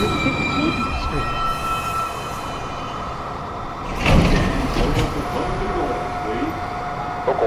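A New York subway 2 train rolls into the station with a steady loud rumble and high wheel squeal, surging noisily midway as it passes close, while a platform announcement plays over it.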